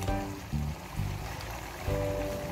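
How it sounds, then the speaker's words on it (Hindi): Water pours steadily into a kofta pan, a continuous splashing wash with a low hum running beneath it, close and fairly loud. "अब इसमें मैंने 1 कप पानी डाल देना है।"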